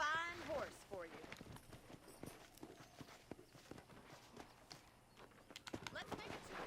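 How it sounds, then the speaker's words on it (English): Horse hooves in Red Dead Redemption clip-clop at a steady walking rhythm across ranch ground, fairly close, while a voice talks briefly at the start. "I picked out a fine horse for you."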